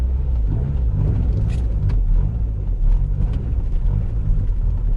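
A Mazda MX5 Miata on snow tires with a limited-slip differential and a nearly empty tank crawls up a snowy driveway, its engine a steady, close low rumble with no talking.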